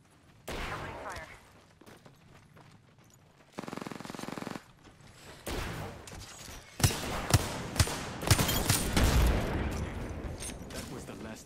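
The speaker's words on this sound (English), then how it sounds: "Opening fire." Gunfire in the video game Apex Legends rattles in bursts, with rapid automatic fire and louder single shots crowding the second half over game effects, while a voice speaks briefly.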